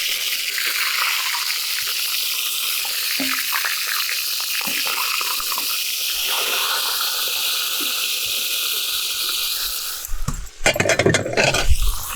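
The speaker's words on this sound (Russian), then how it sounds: "Вот она жарится, наша курочка." Steady, loud sizzling and hissing of chicken frying in hot oil in a cauldron over an open fire, continuing throughout, with a brief burst of crackling spatter near the end.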